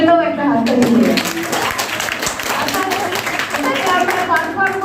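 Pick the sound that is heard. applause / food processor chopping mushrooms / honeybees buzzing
applause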